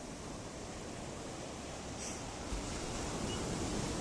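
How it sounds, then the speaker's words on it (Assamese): Sea waves and cold wind at the shore, a broad steady wash of surf and gusting air, with a soft crash swelling near the middle. "চাওক কিমান মজাকৈ বতাহ বলি আছে সাগৰৰ ঢৌ খেলি আছে"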